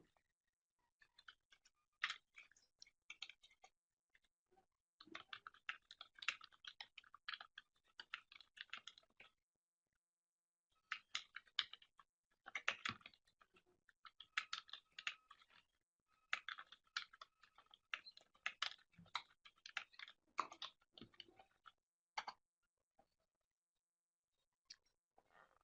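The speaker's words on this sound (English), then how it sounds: "I'll just type a note in here." Computer keyboard typing during an online webinar: quiet, close bursts of rapid key clicks in several runs with short pauses between them, no talking.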